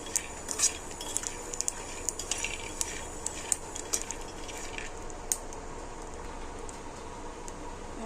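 Peanuts roast in a pan, and a faint sizzle runs under light scraping and clinks from the stirring spoon. Scattered small ticks and pops are heard up close, and no voices join in.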